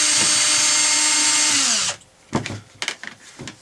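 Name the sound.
power drill opening a Boda drill machine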